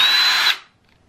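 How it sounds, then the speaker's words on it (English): A power drill runs in reverse to back a stripped screw out of a laptop panel, a loud high-pitched whine held for about half a second before cutting off into silence. "I'm going to put the drill in reverse and take the screw out."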